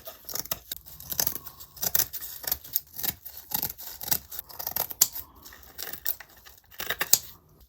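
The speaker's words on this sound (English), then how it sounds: "And now we just need to trim the edge." Scissors trim the edge of an upcycled Easter craft decoration, with a rapid, irregular series of close, crisp snips and rustles and no talking.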